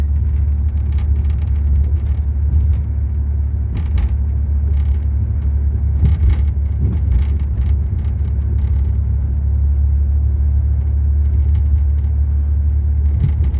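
A 1990 Eagle Premier driving on a street, heard as a steady low engine and road rumble from inside the car, constant and fairly loud with light thumps from the road surface.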